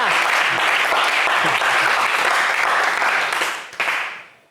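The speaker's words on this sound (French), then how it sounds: "on n'est pas avare en applaudissements sur ce plateau" A studio audience on a French television game show bursts into sustained, dense applause that holds steady, then drops away and fades out in the final second.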